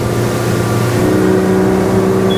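Yamaha 300hp outboard engine on a Haines Hunter 680 boat, revving with a loud, close, steady droning roar and a strong low hum that holds level throughout, without any voices.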